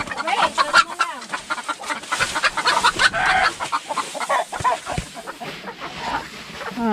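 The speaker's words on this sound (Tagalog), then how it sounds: "Ito naman ang bahay ng aming native chicken." Native chickens cluck and chatter inside their coop on a rural farm in Occidental Mindoro, a busy close flurry of overlapping clucks and squawks with brief speech mixed in.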